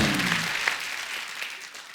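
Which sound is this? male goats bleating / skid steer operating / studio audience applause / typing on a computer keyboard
studio audience applause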